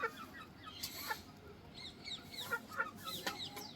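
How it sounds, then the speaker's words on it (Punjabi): Several hens cluck and a rooster calls in short bursts, moderately close, over a steady outdoor farm background with no talking. "ਬਾਹਰ ਕੁੱਕਰ ਬੋਲ ਰਹੇ ਹੈ ਜੀ ਕੁੱਕੜ"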